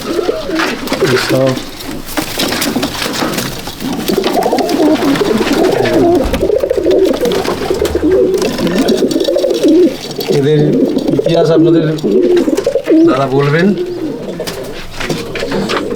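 Abluk breeding pigeons coo steadily inside a loft in Malda district, their soft repeated calls continuous and close, with people talking over them throughout.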